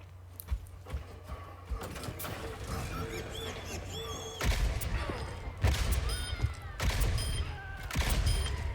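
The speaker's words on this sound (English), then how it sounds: "Yeah, that is Bastion's sound." Busy Overwatch game action as the robot hero Bastion fires his ultimate ability, with bursts of rapid gunfire, clattering impacts and high electronic squeals layered over one another.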